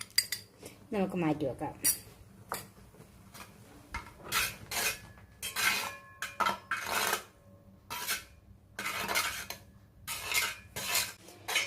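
A spoon stirs and scrapes cumin and cardamom powders together in a bowl for jaggery-coated plantain chips, giving repeated clinks and rasping scrapes in short bursts, close by, with a brief spoken line.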